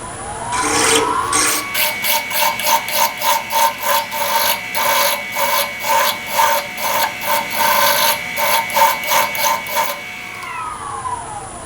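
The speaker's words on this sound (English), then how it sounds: "This is where I'm going to go to the standard mill bastard file." Rhythmic rasping of a mill bastard file smoothing a small metal hollow-form lathe tool, about twenty steady even strokes, loud and close with no talking.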